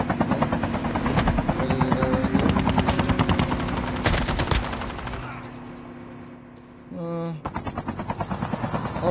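A helicopter in the video game Call of Duty Mobile thuds with loud, rapid rotor pulses, joined by bursts of automatic gunfire, then briefly fades before the chopping beat returns close and strong.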